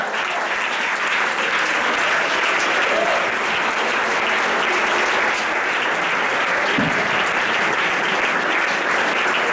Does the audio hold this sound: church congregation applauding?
yes